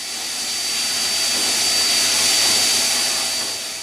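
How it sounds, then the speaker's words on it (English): A continuous loud whooshing drone of a vacuum cleaner running nearby, removing sanding dust from a kayak, steady throughout with a high whine, no speech. "I vacuum off the dust before I move inside."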